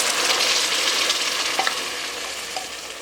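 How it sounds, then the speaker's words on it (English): Broth made from bouillon cubes poured into a hot pan, a loud continuous sizzle and crackle right up close that eases slightly as it settles, with small pops and no voices. "I'm actually going to add in 2 cups of broth"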